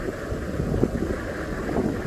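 A tractor's engine keeps idling after the machine has tipped into a canal, giving a steady, low, muffled rumble mixed with wind noise and no clear change in pace.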